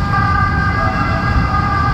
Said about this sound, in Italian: Ambulanze.